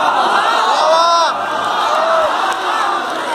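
A live comedy and poetry stage show audience bursts into loud crowd cheering and whooping with applause, a dense, close roar of many voices lasting a few seconds.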